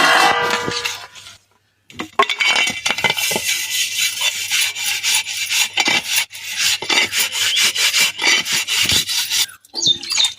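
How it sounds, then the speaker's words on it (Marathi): Metal pots and vessels are scrubbed by hand, giving loud, rapid rasping strokes in uneven bursts, close up, with a short pause near the start and another near the end. "बघा आता भांडी भासणं झाले"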